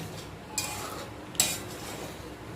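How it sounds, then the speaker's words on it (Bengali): Butter being stirred into ghee in a kadai over low heat, with a soft background sizzle broken by two sharp metallic scrapes of a spoon against the pan. "একদম আঁচটা একদম কমিয়ে দিয়ে সমানে নাড়তে থাকবো"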